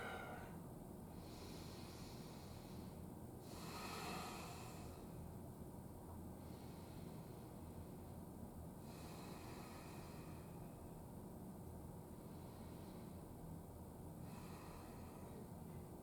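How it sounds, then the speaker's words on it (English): Slow, deep breaths during a seated chair yoga session come as soft, airy swells every few seconds. They sit close and fairly faint over a steady hiss, with no talking. "Come back to that systematic breathing."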